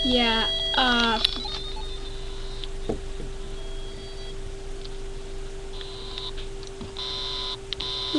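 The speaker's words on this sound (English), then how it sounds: "I think it's the beep." Electronic device emitting steady tones and short repeated beeps, quiet and close, with brief higher beeping bursts and background sounds.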